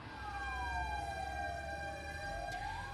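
Wailing fire engine sirens sweep up and down in pitch, loud and continuous, with a low engine rumble beneath, at a fire near housing.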